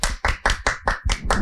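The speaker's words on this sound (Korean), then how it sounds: "박수 한번 칠까요?" An audience at a university student startup talk concert claps in a brief, rhythmic burst of seven distinct, evenly spaced claps, close and clear with no talking.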